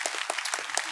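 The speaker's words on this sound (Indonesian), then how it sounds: "Yang percaya kasih tepuk tangan dulu yang luar biasa" A church congregation claps during a sermon, a short burst of lively, fairly loud applause from many hands filling the room.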